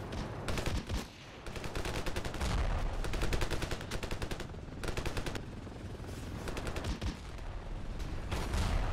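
Rapid automatic gunfire from the first-person shooter Ravenfield, dense bursts of shots rattling almost continuously with brief gaps, loud and close.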